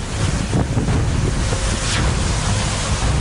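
Stormy sea waves crash ashore on the Chennai coast during Cyclone Vardah, a loud, continuous roar of surf and gusting wind with heavy microphone wind buffeting and no speech.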